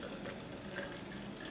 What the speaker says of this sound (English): with the cup that comes with the Optimum, you simply pour your juice in